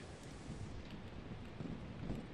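Thunder rolls in a video game after a lightning strike, a dense rumble that fills the whole moment like a downpour, steady and fairly quiet with no talk.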